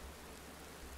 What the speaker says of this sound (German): Und es regnet ziemlich heftig